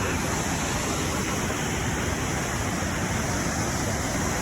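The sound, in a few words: waterfall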